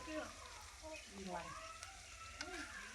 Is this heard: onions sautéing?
yes